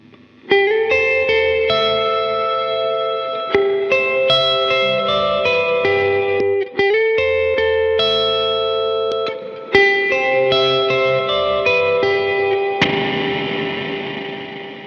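An electric guitar plays chords and picked notes through a light blue Skyverb reverb pedal, each strum blooming into a long, washy tail, ending in a dense shimmering swell.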